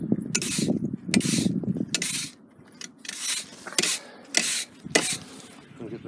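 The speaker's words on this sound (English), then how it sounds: "Rake all the ashes in the back as well." Ashes are raked inside a wood-fired pizza oven, a series of about eight short, loud scraping rasps at an uneven rhythm with quiet gaps between.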